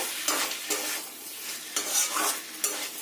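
Spiny gourd pieces fry with spices in a pan, stirred in scraping pulses over a steady hiss of hot oil, close and moderately loud with no talk.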